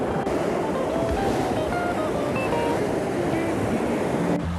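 Fast river water rushes around a big exposed rock, a steady loud broadband wash with some wind buffeting the microphone.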